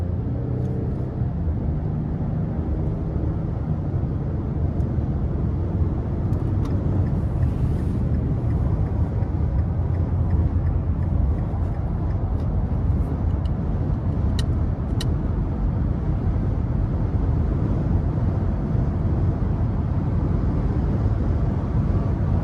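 A 2023 Nissan Frontier with a 3.8 V6 cruises on the interstate, giving a constant loud cabin rumble of road and engine noise with a steady low drone and no break.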